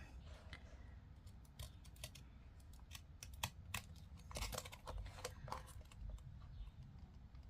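Scissors snipping paper while making envelope houses, a quick irregular series of close, crisp cuts and small crunchy paper rustles.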